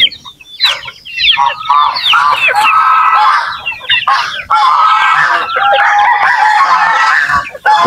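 A flock of sick chickens and roosters clucking and crowing together loudly and continuously, with overlapping calls filling the whole stretch.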